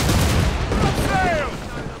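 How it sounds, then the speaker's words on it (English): Ship cannon volley booming in a naval battle in Assassin's Creed Rogue, heavy rumbling blasts blending into a noisy, chaotic sea fight, with a brief whistling streak cutting through the din. "They are firing a volley! Fire!"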